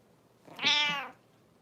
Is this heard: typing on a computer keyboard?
no